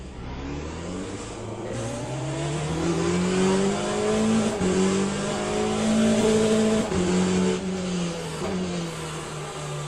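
Race cars in LeMans Ultimate at Bahrain, several engines revving and accelerating together in a steady, rising drone, close and loud, with pitch climbing through gear changes and no voices.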